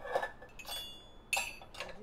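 A spoon clinks and scrapes against a plastic box and dishes while a salad of grated carrot is stirred, with a few sharp, light metallic taps spaced over the moment and no speech.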